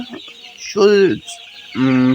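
Two loud, drawn-out squawking calls from 25-day-old Sonali chicks nearby, separated by a short pause, with faint clucks in between.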